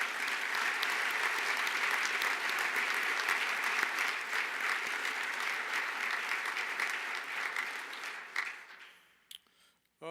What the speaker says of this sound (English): Could you join me in giving them a round of applause?